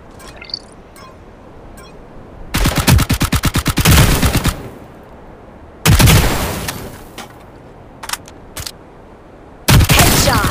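Gunfire in the mobile shooter Hyper Front, loud close bursts of rapid automatic shots in several separate volleys, with brief single shots and quiet gaps between them.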